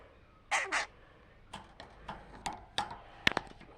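Several short, sharp bird calls come in quick bursts, a couple of louder squawks near the start, then scattered chirps close by.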